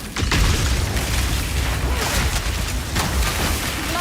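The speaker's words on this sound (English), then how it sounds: "I saw that explosion." A loud, booming explosion from the video game Path of Exile 2, with a sustained rumbling burst and crackling debris filling the moment.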